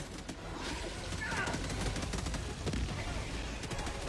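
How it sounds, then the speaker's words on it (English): Rapid gunfire in the shooter game Destiny 2, a dense continuous barrage of shots filling the whole stretch, loud and close. "I shot the mouth one time lah, Faiz."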